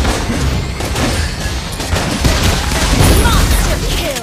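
Rapid gunfire bursts from Granger's Crescendo Bullet skill in the Mobile Legends mobile game, loud and dense over a busy game soundtrack and effects, continuous for the whole stretch.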